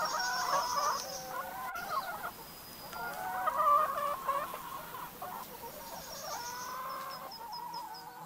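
Chickens cluck and murmur in a steady, moderately close chorus, with brief higher calls now and then, and no talking.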